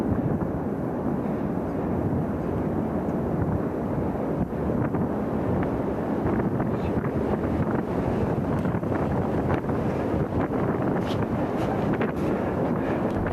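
A bushfire roars in strong wind in Australia, a dense, continuous, loud rumbling rush with gusting buffets and faint crackles throughout, and no voices.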